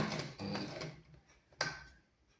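A sewing machine stitches fabric in a tailoring class, a quiet mechanical whirr running in a couple of short bursts with a brief click between them, heard close and alone.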